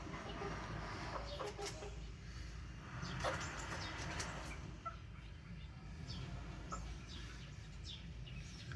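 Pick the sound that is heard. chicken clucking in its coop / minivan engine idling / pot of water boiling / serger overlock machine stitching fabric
chicken clucking in its coop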